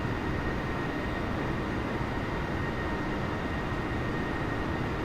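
An A320neo airliner taxiing in a flight simulator, heard as a steady, even engine roar and broad rumble with a faint high whine, constant in level throughout with no talking.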